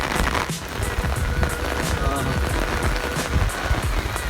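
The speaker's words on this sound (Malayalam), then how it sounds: "അടിപൊളി മഴ തുടങ്ങി." Rain begins pouring outdoors in a rural Kerala village setting: a dense, loud, continuous patter of drops striking nearby surfaces, steady throughout with no voices.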